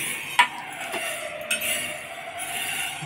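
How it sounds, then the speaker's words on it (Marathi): Whole black urad dal is dry-roasted in a pan while being stirred. A few faint metallic clinks and scrapes sound over a steady, low background hiss. "हे बघा आता हे असं भाजून घ्यायचं."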